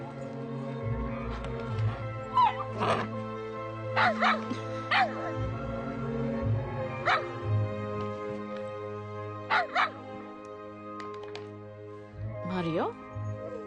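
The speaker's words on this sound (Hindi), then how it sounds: "इसे देखकर क्यों भौंक रहे हो तुम?" A dog barks and yips in short bursts, several sharp barks spaced irregularly over a steady low hum, with a person speaking nearby between them.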